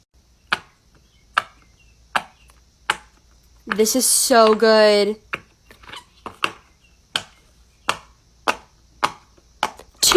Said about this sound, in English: Let's test out the crab poppet next.